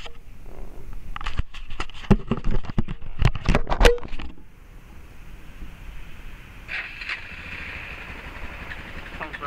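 A 2002 Suzuki DR650 motorcycle engine cranks in a loud burst of sputtering starter clatter, then settles into a quieter steady idle, heard nearby with no talk.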